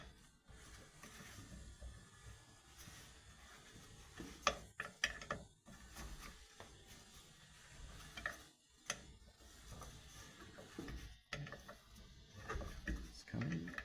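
An 8mm spanner works a bracket nut loose near the fuel filter of a 1996–2005 Mitsubishi Magna, giving close, quiet metallic ratcheting clicks and scrapes in irregular bursts, with light handling noise between.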